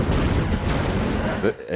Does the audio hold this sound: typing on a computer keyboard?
no